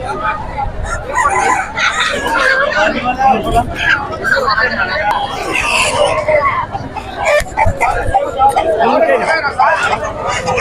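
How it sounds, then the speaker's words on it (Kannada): Desi country chickens cluck and crow at a busy rural weekly market in Mudgal, heard amid constant crowd chatter and nearby talking voices. "ಇಲ್ಲಿ ಭಾಳಷ್ಟು ಕೋಳಿಗಳು ಬಂದಿವೆ ಮುದ್ಗಲ್ ಸಂತೆಯಲ್ಲಿ ಫುಲ್ ಜವಾರಿ ಕೋಳಿಗಳೇ ಸಿಗುತ್ತೆ ನಿಮಗೆ ಇಲ್ಲೆಲ್ಲ"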